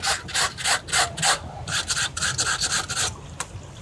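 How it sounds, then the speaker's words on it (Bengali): A stiff brush scrubs wet clothes in rhythmic back-and-forth strokes, about a dozen rasping passes in quick succession, close and clear, with a brief pause near the end. "ওনারা কিন্তু কাপড় ধোয়ার সময় একটি ব্রাশ ব্যবহার করছে"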